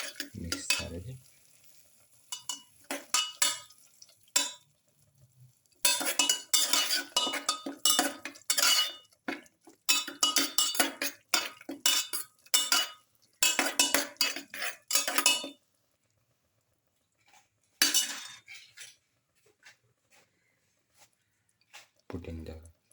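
Spoon stirring turmeric powder into food in a pan, scraping and clinking strokes over a light sizzle, arriving in bursts with silent pauses, a voice speaking at times.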